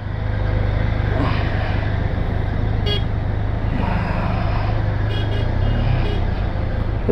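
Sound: road traffic jam with car horns honking

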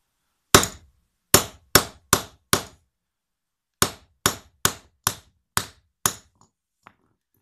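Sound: hammer crimping a cable lug

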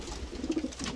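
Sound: pigeons cooing in a loft

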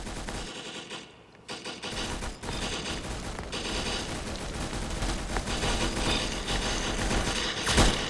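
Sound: gunfire in the video game Arsenal

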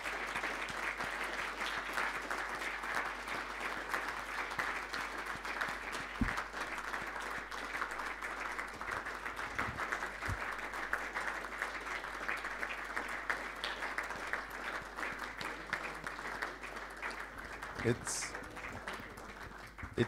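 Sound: applause for student volunteers

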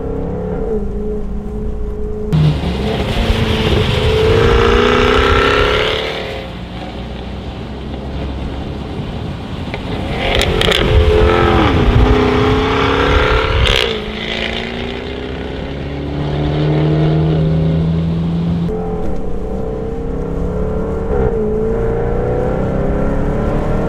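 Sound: Jaguar F-Type V8 S engine revving with exhaust pops

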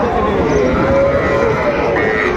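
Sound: Sahiwal cattle mooing at a cattle market

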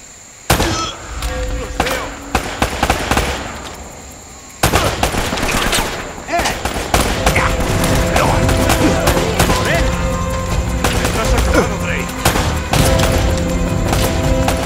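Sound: gunfire shooting at the player in a video game

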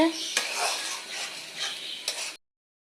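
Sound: spice paste and eggplant being sautéed and stirred in a pan

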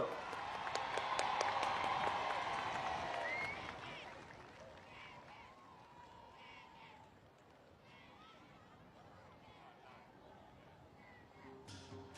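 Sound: audience applause

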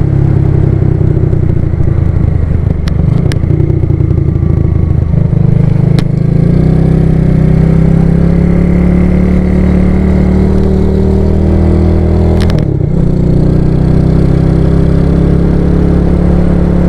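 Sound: motorcycle engine while riding

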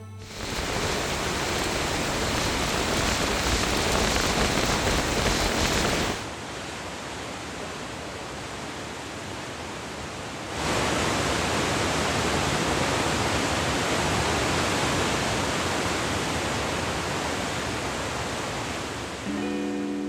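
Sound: waterfall

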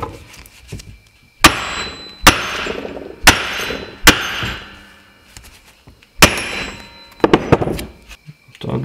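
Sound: hammering a metal jig blade

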